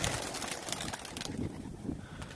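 Pet pigeons cooing outdoors, soft low murmuring coos repeating through the moment over a light outdoor background.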